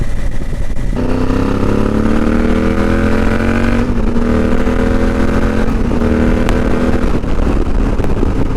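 A motorcycle engine rides along a farmland road north of Perth toward Braemar, droning loud and close with steady revs that rise in pitch, dip briefly, and climb again.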